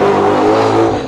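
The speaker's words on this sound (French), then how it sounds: "C'est une Ford Mustang Shelby GT500. Ça fait 771 chevaux. C'est un V8 compresseur" A supercharged V8 in a Ford Mustang Shelby GT500 rated at 771 horsepower, producing a loud, steady, close-up engine roar that holds for about a second and dips slightly at the end, with no talking.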